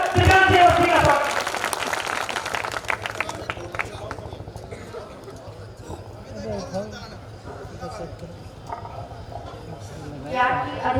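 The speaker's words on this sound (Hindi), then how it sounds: "पूरा सदन जोरदार तालियां बजाकर दिव्यांग की बच्ची का स्वागत" An audience at a Kishanpur fair poetry gathering applauds to welcome a young disabled girl poet, a broad wash of clapping and crowd murmur mixed with a speaking voice.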